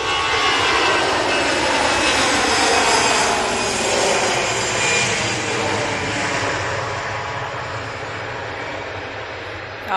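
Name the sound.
jet airliner on the runway at the airport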